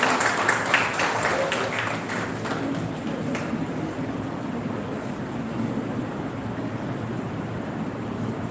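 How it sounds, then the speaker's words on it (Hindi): Audience applause greets a speaker at a Teachers' Day program on a Himalayan university campus, a loud dense wash of clapping that begins strongest and continues steadily throughout. "तालियों के साथ स्वागत कीजिएगा।"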